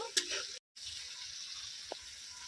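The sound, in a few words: tomato paste and spices frying in oil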